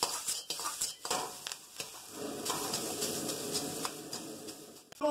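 Spring onion searing in a wok for Peruvian chifa aeropuerto, with sharp scraping stirs and clanks over a continuous hiss of frying and no speech.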